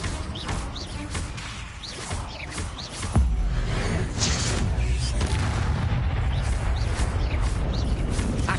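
An Incendio fire spell is cast in the video game Hogwarts Legacy, starting with crackling, then a sudden loud whooshing burst of roaring flame that holds steady to the end, with no talking.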